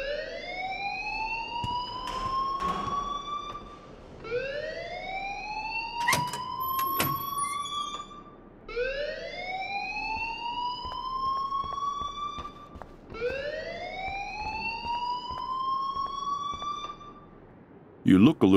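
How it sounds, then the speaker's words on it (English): A Life is Strange school alarm wails in four long rising sweeps, each climbing then cutting off, loud and repetitive, with brief clicks and a burst of noise at the end. "please turn off that alarm since that's your job"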